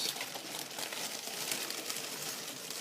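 A plastic bag for a Douglas Dakota model kit is cut open, giving a close, continuous crinkling and rustling of thin plastic with small crackles throughout.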